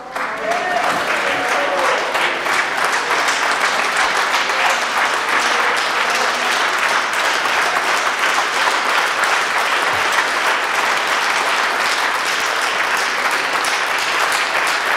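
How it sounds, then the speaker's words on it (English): A church congregation claps steadily and loudly for the whole stretch, a thick, continuous roar of many hands in a large worship space, with faint voices mixed underneath. "I say clap your hands and say Jesus is good."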